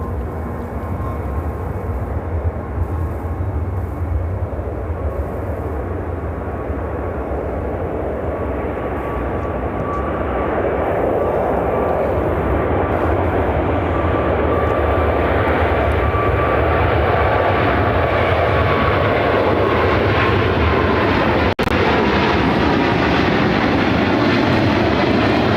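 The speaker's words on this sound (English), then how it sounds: "China Cargo Airlines 228 taking off to Shanghai on the 777" China Cargo Airlines Boeing 777 freighter taking off from runway 28 right at Chicago O'Hare, bound for Shanghai: a loud, sustained jet roar that builds and holds steady over the whole stretch, alone without voices.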